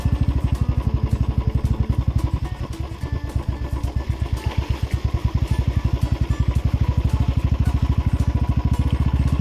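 Motorcycle engine running close up while riding a shortcut near the Disang river, a steady loud chugging putter with rapid regular firing pulses throughout and no talk.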